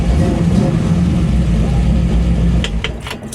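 A 1967 Chevy Camaro engine running loud and close with a rough, rattling exhaust, a steady low rumble throughout and a few sharp clicks near the end.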